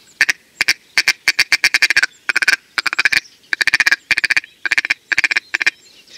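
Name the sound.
acrylic mallard duck call imitating the female's short calls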